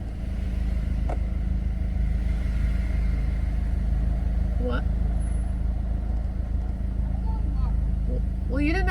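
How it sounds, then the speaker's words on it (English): A car idles nearby in a steady low rumble as it pulls up to park, with brief voices breaking in now and then over the engine. "Girl, are you gonna park your car?"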